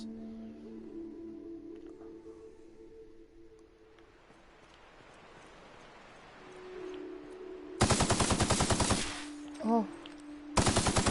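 Rapid gunfire in The Outer Worlds erupts as loud, fast automatic bursts, a long one and then a shorter one, after a quiet stretch of low hum, with a brief exclamation between them.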